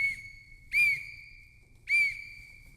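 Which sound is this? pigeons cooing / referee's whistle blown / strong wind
referee's whistle blown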